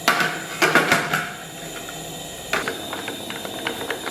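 A pressure cooker holding beef bones with dark soy sauce, star anise, cinnamon, bay leaves and chili powder comes up to pressure, its valve rattling in quick clicking bursts over a soft steady hiss.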